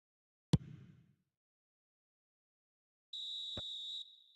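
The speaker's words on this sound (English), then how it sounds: "And there goes the final whistle." Referee's final whistle in the eFootball 2026 video game, a single sustained high whistle tone lasting about a second, clean and isolated after a brief thud and silence.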